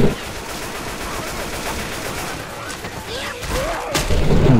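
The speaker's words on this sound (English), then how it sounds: "They're shooting me!" Gunfire in the video game Left 4 Dead 2, with dense rapid shots and booms running throughout under voices in the game and shouting players.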